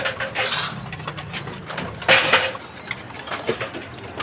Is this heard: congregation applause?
no